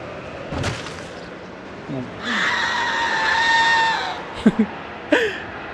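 Zombie in Project Zomboid screaming after being struck by a car: a sustained strained, harmonic shriek of roughly two seconds, framed by short sharp thuds and impact bursts before and after.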